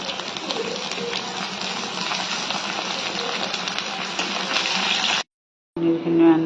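Paneer sizzles and fries in refined oil in a wok, a continuous loud hissing crackle that cuts out abruptly, then resumes more briefly.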